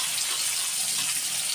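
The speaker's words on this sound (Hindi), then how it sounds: "ये हैं पास्ता जो कि अभी हम ठंडे पानी में धो रहे हैं।" Cold tap water runs steadily over boiled pasta in a kitchen sink, a close, continuous splashing rush with no voices.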